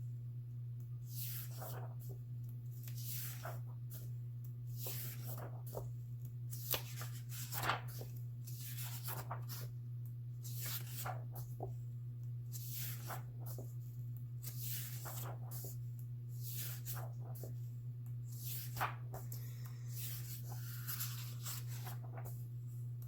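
Pages of a coloring book being flipped through one after another, a steady run of soft paper swishes over a constant low hum, with no talking.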